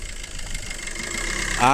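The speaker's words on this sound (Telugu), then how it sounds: "ఇంజన్ సౌండ్ చూసుకోవచ్చు మాత్రం ఇట్లా ఉన్నది ఇది" A 2017 Maruti Suzuki S-Cross Zeta engine idles with a steady low rumble, briefly rising in pitch near the end.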